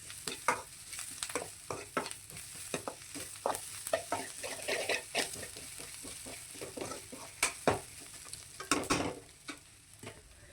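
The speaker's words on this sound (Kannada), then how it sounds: "ಈ ಈರುಳ್ಳಿನ ಫ್ರೈ ಮಾಡ್ಕೊಳ್ಳೋಕೆ ಒಂದು ಸ್ವಲ್ಪ ಹೊತ್ತು ಟೈಮ್ ತಗೊಳುತ್ತೆ" Onions fry in a pan for mutton sukka, giving a steady sizzle broken by frequent scraping and clinking stirs, with no talking.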